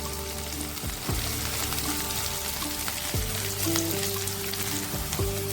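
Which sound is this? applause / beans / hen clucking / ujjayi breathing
beans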